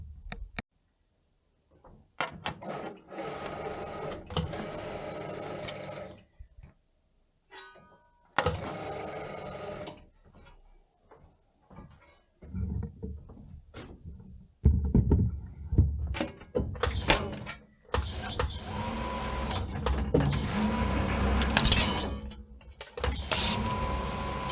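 A swaging machine rounds a flattened T-pipe, running in several separate bursts of mechanical whirring and grinding with quiet pauses between them, ending in a longer, louder stretch of operation.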